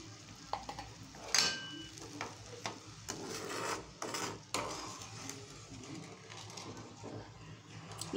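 Rava kesari being stirred in a pan, with repeated soft scraping and thick stirring strokes against the metal, faint and irregular throughout.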